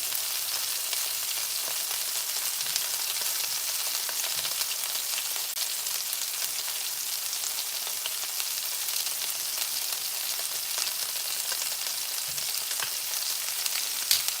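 Vegetables stir-fry in a hot pan, giving a loud, dense, unbroken sizzle that holds steady from start to finish with no talking.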